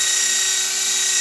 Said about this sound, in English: I'm reversing the drill. It's going counterclockwise, and I'm going to hold my paper on this side.